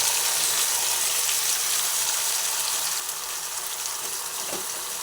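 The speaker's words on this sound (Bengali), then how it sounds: "তেলটা গরম হয়ে গেছে সেই সময় এই শিমগুলো এক এক করে কড়াইয়ের তেলের মধ্যে দিয়ে দিলাম" Flat beans frying in hot oil in a wok, a steady, dense broadband sizzle that holds evenly throughout, dropping slightly in level partway, with no voices.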